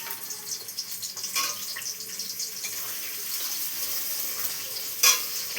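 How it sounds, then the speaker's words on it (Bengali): Chopped onion fries in hot oil with bay leaf, dried chilli and cinnamon, giving a steady bright sizzle close up with a few stirring clicks and a short sharp crackle near the end. "একটু ভালো করে লাল লাল করে ভেজে নেবো।"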